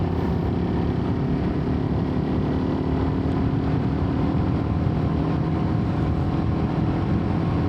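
A Suzuki Raider 150 motorcycle engine drones steadily and loudly as it accelerates through the gears, with strong wind rush throughout.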